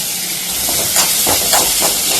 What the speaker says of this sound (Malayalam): ഇനി നമുക്ക് അതേ ചട്ടി തന്നെ കുറച്ച് ഓയിൽ ഇട്ട് കൊടുക്കാം. എന്നിട്ട് നമ്മൾ ഉള്ളി ഇട്ടിട്ട് നല്ലോണം ഒന്ന് വഴറ്റിയെടുക്കാം.